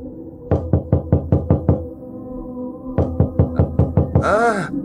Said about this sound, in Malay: Pernah satu malam tu, pintu bilik saya kena ketuk.